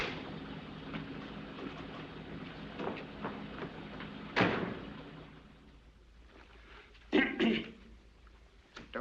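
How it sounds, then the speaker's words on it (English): A man coughing in a 1941 film scene: a sharp cough bursts out midway over a low background rumble, then a rougher double cough follows a few seconds later, with quiet stretches between. "Don't stand there coughing"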